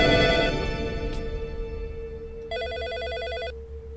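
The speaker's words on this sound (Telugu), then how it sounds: "ఆ ఫోన్ తీయవే." A telephone rings with a bright electronic trilling burst lasting about a second, clear and fairly close over a low background hum.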